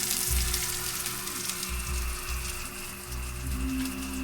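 Garlic frying in a hot pan gives a steady, dense sizzle with occasional low bumps and clatter, and no talking over it.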